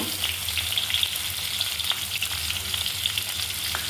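Chopped onions and a bay leaf frying in hot oil, giving a steady, close, dense sizzle with faint crackles and the odd soft stir, with no voices.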